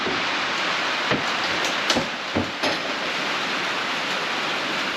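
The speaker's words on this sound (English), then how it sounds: "it's actually been raining the past 24 hours, and it's gonna rain for the next 12 hours" Steady spring rain falls in a soft, even hiss with a few brief closer taps, no voices present.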